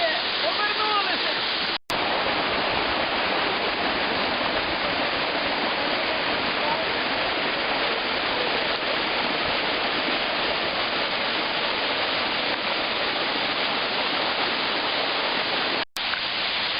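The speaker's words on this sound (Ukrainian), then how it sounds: "Метрів 10 має Нарінецький водоспад, він спускається по градусом десь порядка 75 градусів." The roughly 10-metre Narinets waterfall in Ukraine roars in a dense, continuous rush, close and loud, with no breaks except two brief cuts.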